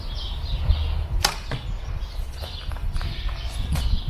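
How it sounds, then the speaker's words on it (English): One arrow loosed from a bow with a French release, a sharp snap and whoosh near the middle, heard over soft rustling and low shuffling noises with a few fainter taps. "you can hold the arrow in place, it's fine, and you can shoot."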